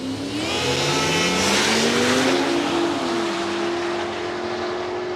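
A blown 1956 Chevy and an F6 Falcon drag racing at Palmyra Raceway: loud, close engine roar with a rising, revving pitch that builds and then holds as a steady high drone, with no talk.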